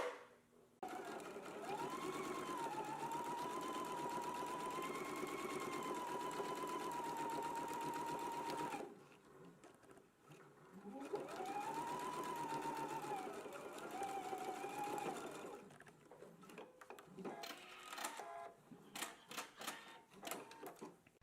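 A sewing machine straight stitching a seam in knit fabric, two long steady runs with a short pause between, followed by lighter clicks and handling sounds, faint overall and no talking.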